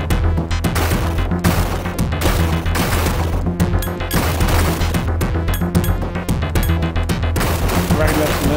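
Missiles are shot down in the Batman and Robin video game, heard as continuous loud, chaotic bursts of explosions and blasts layered over a thumping game soundtrack with no pauses.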